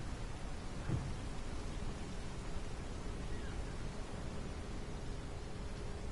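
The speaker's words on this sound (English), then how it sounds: "Just want to show you this rain." Rain on a tram platform in the TramSim video game makes a faint, steady hiss with a soft low thump near the start.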